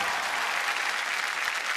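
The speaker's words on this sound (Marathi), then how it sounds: "टाळ्या होऊन जाऊ दे." A studio audience on a Marathi TV show claps steadily, a dense continuous burst of applause that stays loud and even throughout.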